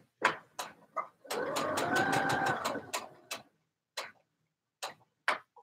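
A Baby Lock Soprano sewing machine running in a short steady mechanical burst of rapid stitching, set among separate sharp ticks and taps before and after, close and fairly clear.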